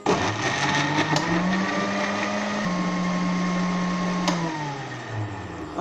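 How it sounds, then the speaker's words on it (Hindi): A blender whirs through banana, chocolate sauce and milk for a milkshake, its motor holding a loud steady whine that climbs in pitch, plateaus, then winds back down near the end, close and alone. "मैं 3 से 5 मिनट तक ब्लेंड करता हूँ ब्लेंडर के अंदर"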